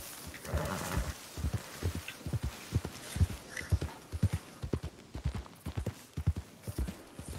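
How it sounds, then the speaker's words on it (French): Horse hooves clip-clop steadily in a rural field as someone rides past, an even rhythmic beat of soft thuds, moderately close but not loud, with no talk over it. "Ah oui, il y a quelqu'un à cheval."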